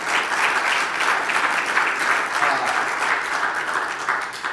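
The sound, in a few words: audience applause after a talk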